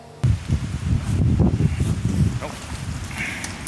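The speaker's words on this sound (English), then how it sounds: "That spot was too windy" Steady broadband wind buffeting a microphone, rumbling low and continuous for several seconds, with gusty surges and rustling.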